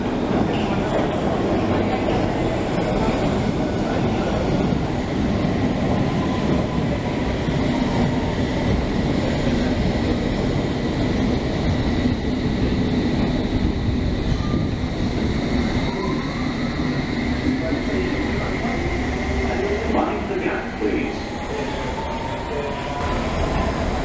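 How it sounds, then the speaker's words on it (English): A London Underground train rumbles into a station, a steady heavy roll of wheels on rails with faint squeals and clicks that eases off toward the end. "So here comes the train, but it's not ours."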